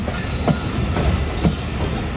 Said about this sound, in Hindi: 10 से 15 मिनट रुकने के बाद हमारी ट्रेन रवाना हो रही है।